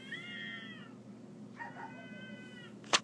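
Two cats in a territorial standoff yowl and caterwaul, long drawn-out wavering cries rising and falling, one call fading before a second begins, with a brief sharp scuffle near the end.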